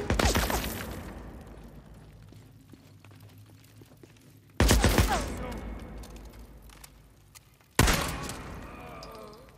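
Gunfire in the video game Days Gone comes as three loud, abrupt bursts, each fading slowly into a reverberant tail, with quieter rustling between them.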